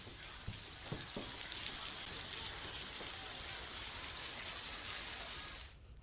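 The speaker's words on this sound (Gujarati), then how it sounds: "ધારીના સરસિયા, ગોવિંદપુર, સુખપુર, દલખાણીયા, પાસરિયા, ગીગાસણ, કાગસા સહિતના જે આસપાસના ગામો છે ત્યાં વરસાદ વરસી રહ્યો છે" Rain pours steadily over villages near Dhari in Amreli, Gujarat, a dense continuous patter with a few sharper drops early on, holding level before cutting off abruptly at the end.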